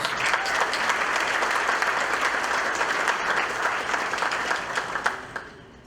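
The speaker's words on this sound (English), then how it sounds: "Can you please give all our sponsors a round of applause?" A banquet audience at an athletic hall of fame event applauds the sponsors, full, even clapping that holds steady before tapering off into a few last claps.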